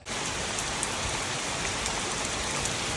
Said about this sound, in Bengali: দেখতে দেখতে আবার বৃষ্টি নামলো বেশ জোরে সোরে বৃষ্টি